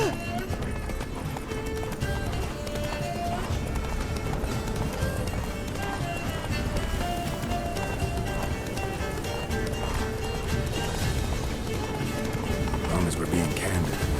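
Roach, the horse in The Witcher 3, gallops with steady clip-clop hoofbeats throughout, under game music and conversation between characters.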